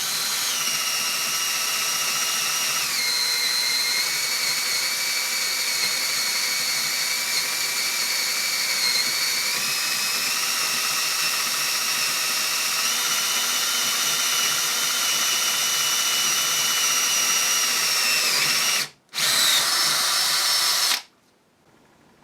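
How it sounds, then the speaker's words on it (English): A Bosch GSB 18V-28 cordless combi drill with a somewhat blunt bit whines steadily at high speed, pitch shifting slightly under load, then cuts out briefly, restarts and stops near the end. "this drill might be a little blunter than I at first realised"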